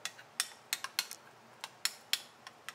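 Batter for Dragon Paneer being mixed in a bowl, with a spoon knocking against the side about a dozen times in quick, uneven clinks. The taps are close and fairly quiet, and no one speaks.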